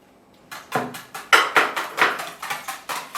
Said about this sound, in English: we continue whisking until we get the cooking oil well mixed with the other ingredients